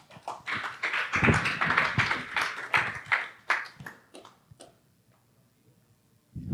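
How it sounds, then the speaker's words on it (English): Applause from an audience at a Crypto Mondays event in San Juan, greeting a speaker on stage: a dense burst of clapping that thins out over several seconds into scattered claps, then near silence, with a brief rise at the very end. "Give him a round of applause,"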